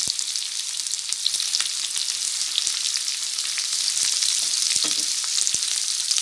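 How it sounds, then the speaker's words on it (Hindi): Onions fry until golden in a pan as a loud, dense, steady sizzle with occasional crackles and a few faint stirring knocks throughout. "तो ये अनियन मैं एक्स्ट्रा मज़ीद इसमें ऐड करने लगी हूँ। बस मैंने गोल्डन फ्राई इनको करना है।"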